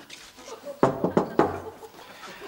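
Sharp knocks on a door in a Flemish sitcom scene, three firm raps in quick succession standing out clearly against a quiet room.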